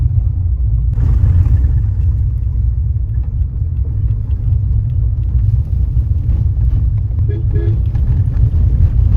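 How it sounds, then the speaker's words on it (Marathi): A car driving by road toward a temple fair near Mahabaleshwar, heard from inside as a loud, constant low engine and road rumble with wind buffeting throughout. "बाय रोड चाललोय कारने"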